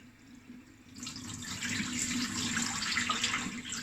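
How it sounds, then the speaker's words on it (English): Tap water runs steadily into a bowl while soaking rice is rinsed for Persian saffron rice, the flow starting about a second in and continuing as a close, even splashing wash. "and I do that a few times until my water is not really sort of clear"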